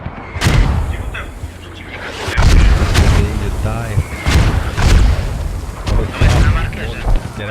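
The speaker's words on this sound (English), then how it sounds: "Ooh, and that strike is rocket." Rocket strikes in a tactical shooter match land as repeated heavy booms and thuds, loud and close, amid ongoing battle noise.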